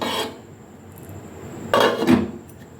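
A lid set down on a cooking pan of green tomatoes and shrimp, giving a couple of close metallic clatters near the end after a quiet stretch.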